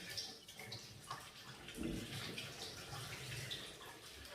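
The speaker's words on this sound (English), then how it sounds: "let me just wash my hands" Running tap water splashes over hands being washed in a kitchen sink, a soft, continuous wash with faint splashes and gurgles throughout.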